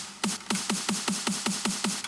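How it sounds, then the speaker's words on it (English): Evenly spaced electronic snare hits repeat quickly in a steady roll, each a sharp crisp crack with a short bright tail, loud and alone. "and then a snare roll that's already there."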